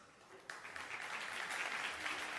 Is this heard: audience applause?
yes